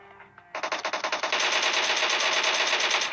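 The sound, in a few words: gunfire from enemy team in a video game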